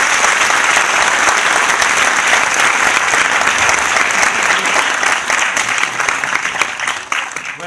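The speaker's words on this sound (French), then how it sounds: "Applaudissez." An audience at a creative evening event gives sustained, loud, dense applause for two presenters stepping up to show their project, with the clapping tapering slightly toward the end.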